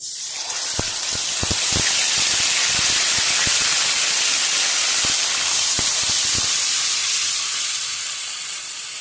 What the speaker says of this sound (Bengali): প্রচুরই ছিটকায়, তেল ছিটকায় বা ফাটে